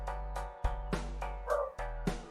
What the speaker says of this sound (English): there's the pup in the background once again, making her presence known